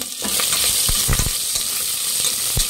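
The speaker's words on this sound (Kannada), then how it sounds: "ಈರುಳ್ಳಿ, ಮೆಣಸಿನ್ಕಾಯಿ ಇದಕ್ಕೆ ಹಾಕ್ಕೊಳ್ಳೋಣ" Onions and green chillies frying in hot oil, a loud steady sizzle throughout with a few sharp spatula scrapes and clicks against the pan, no voices.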